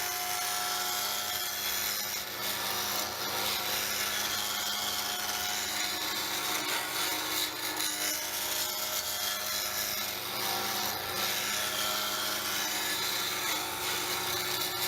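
Wood being cut on a lathe with a turning tool as the tool is rocked across the spinning piece, a continuous close scraping, shaving hiss over the steady drone of the lathe, even and loud throughout, no speech.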